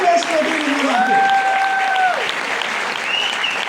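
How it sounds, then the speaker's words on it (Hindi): An audience claps in loud, dense applause throughout, with a voice speaking and drawn-out vocal sounds rising over the clapping. "जोरदार तालियां"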